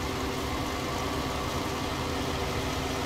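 Steady tractor engine drone in the video game Farming Simulator 19, a constant mid-level hum with no clear change in loudness, no voices.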